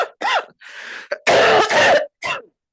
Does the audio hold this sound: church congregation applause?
no